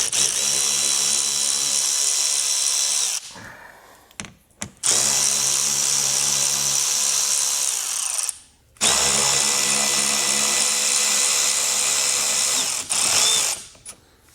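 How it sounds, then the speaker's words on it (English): An angled power driver whirs loudly in three long bursts, separated by short pauses, as it backs bolts out of a 2025 Jeep Grand Cherokee. "But I have an angled driver, so I'm just going to go ahead and get those out with those"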